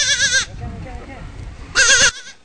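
A transgenic cloned goat, bred for milk protein used in a rare-disease drug, lets out two loud, close bleats, one at the start and one near the end, with a low rumble of background noise between them.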